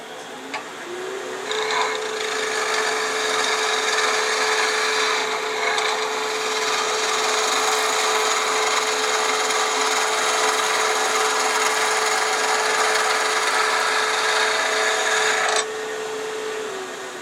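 A skew chisel takes a slicing pass along wood spinning on a lathe, a continuous close rasping hiss over a steady motor tone lasting about fourteen seconds before the cut stops and the motor hum continues.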